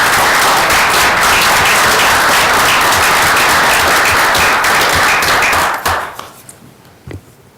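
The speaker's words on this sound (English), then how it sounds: "Round of applause." Audience at a council meeting applauds after a proclamation, loud sustained clapping from a large crowd that holds steady for nearly six seconds, then thins out and fades to a few scattered claps.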